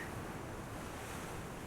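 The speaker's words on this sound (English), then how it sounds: "It's hard to hear you with the sounds of the ocean all around us." Ocean surf and wind roar together in a steady, continuous broadband wash, distant and fairly faint with no distinct individual wave crashes.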